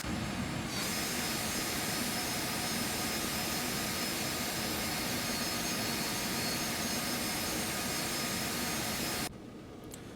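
Twin jet engines of an Embraer Phenom 300 business jet run steadily in the X-Plane 11 flight simulator, a loud, continuous broadband roar and whine that holds for about nine seconds before cutting abruptly to a quieter hum.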